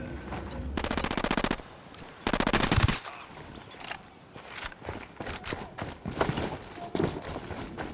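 Bursts of automatic gunfire in Ghost Recon Wildlands, a Tom Clancy tactical shooter, come as dense rapid volleys separated by short pauses, with scattered single shots and battlefield noise filling the gaps.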